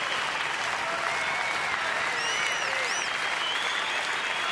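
A baseball stadium crowd of about sixteen thousand at a Houston at Washington major league game cheers and applauds steadily, a dense continuous roar of clapping with whistles rising over it.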